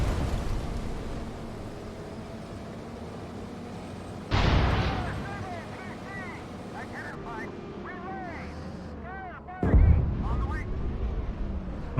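Artillery fire in the tank game Gunner Heat during a four-gun suppression mission: two heavy, booming blasts about five seconds apart rise over a constant low engine rumble, with faint warbling electronic tones in between.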